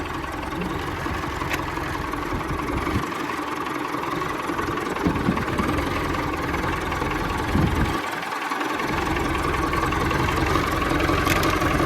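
A Massey Ferguson MF 1250 tractor engine idles close by with a steady, even rumble that holds unbroken from start to finish.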